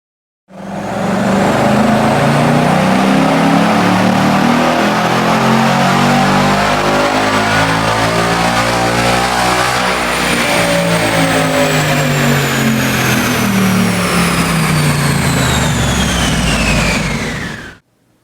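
A 2018 Ford Mustang GT with manual transmission and factory exhaust with cats revs hard and steadily on a dyno for about seventeen seconds, its loud roar sweeping through the rev range before cutting off.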